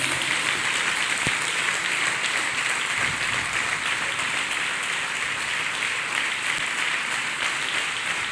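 A church congregation claps their hands together during a worship service, producing a steady, full roar of many hands that holds at an even, loud level throughout with no pauses.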